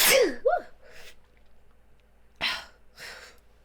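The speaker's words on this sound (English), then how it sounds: "I gotta sneeze." A single sharp human sneeze bursts out close and loud, followed by a couple of softer breathy exhalations and sniffs after a short pause.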